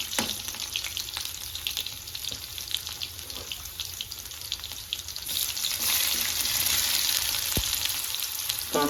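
Garlic frying in a pan, a dense close sizzle that swells louder toward the end, with occasional clinks of a utensil, no voices.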